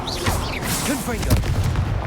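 Confringo blasting spells burst in Hogwarts Legacy combat, booming impacts layered under ongoing game sounds while a voice speaks throughout.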